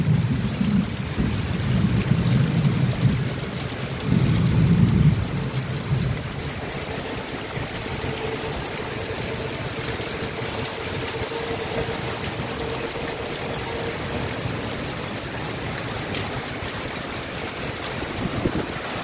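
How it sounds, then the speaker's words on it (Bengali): Heavy torrential rain pours down steadily, a dense broadband wash that stays loud throughout, with stronger low rumbling bursts near the start that may be thunder or water runoff. "মুষলধারায় বৃষ্টি হয়ে যাচ্ছে।"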